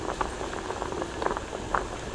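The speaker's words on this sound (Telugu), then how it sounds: "ఆలుగడ్డలు ఇట్లా నీళ్ళల్లో మసిలేటప్పుడు ఒకసారి ఇట్లా కలుపుదాన్ని" Potatoes boil in a pot of water for aloo curry, a steady close bubbling with scattered soft pops and gurgles throughout, no voices.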